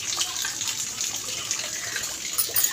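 Rainwater running through flooded lanes after a downpour in a Pakistani neighborhood, a steady broadband rushing and splashing flow heard close and fairly loud, continuous throughout with no voices.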